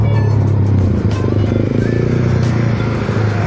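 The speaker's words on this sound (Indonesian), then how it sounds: "Ini dia bus Sugeng Rahayu cepat keluar tol Banter." A Sugeng Rahayu intercity bus pulls out of the Bandar toll road exit, its engine droning loud and close with a steady low rumble and some rattling clatter throughout.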